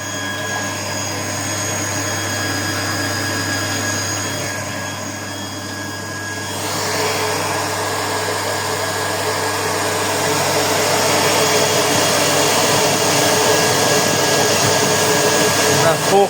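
A smoke filter extractor fitted with a 37 motor runs continuously, pulling air upward with a loud, steady whirring hum that swells slightly partway through.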